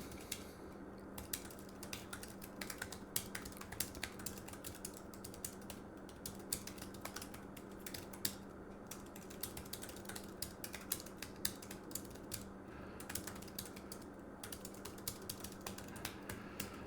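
Rapid, light keyboard key clicks tapping continuously in bursts, fairly quiet and close, with a faint steady hum underneath.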